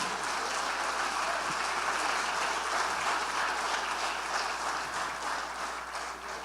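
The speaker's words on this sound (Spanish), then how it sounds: "Él merece un aplauso, claro que sí." A church congregation applauding together, a dense, steady wash of clapping that holds loud and even for several seconds before easing slightly at the end.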